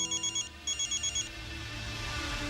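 A phone rings with an incoming call in a Hindi family drama household, two bursts of a bright electronic ringtone pattern, the second cut short as the room tone rises.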